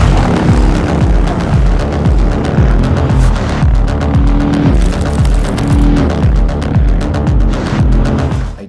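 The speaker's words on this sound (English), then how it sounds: "We are putting the Harley-Davidson Road Glide up against the Indian Challenger to see which motorcycle performs the best." A Harley-Davidson Road Glide and an Indian Challenger drag race over an eighth mile, their engines roaring loudly and continuously with rapid, pulsing exhaust throbs as the bikes accelerate close by.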